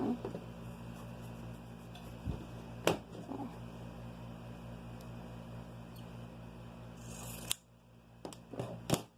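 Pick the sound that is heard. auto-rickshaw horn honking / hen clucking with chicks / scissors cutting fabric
scissors cutting fabric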